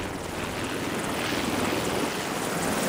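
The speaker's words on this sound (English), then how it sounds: "There's a helicopter." A low, continuous rumbling drone of a helicopter in the video game The Division 2, like a distant helicopter, steady and fairly faint, with no voices.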